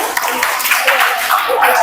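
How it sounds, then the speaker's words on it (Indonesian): A classroom of students clapping for a group after a presentation, a loud, somewhat ragged burst of close applause with uneven individual claps. "Bisa tepuk tangan untuk kelompok 4."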